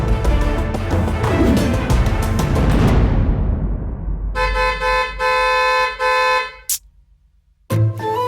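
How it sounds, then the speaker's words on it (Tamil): A car horn honks repeatedly and loudly, several long blasts with short gaps, over a rumble of nearby traffic noise. "மறுபடியும் மறுபடியும் ஹார்ன் அடிச்சுட்டே இருக்காரு."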